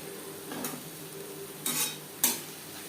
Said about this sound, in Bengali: পেঁয়াজ টমেটোর সাথে মাছের তেল বেশ ভালো করে মিক্সড করে দেব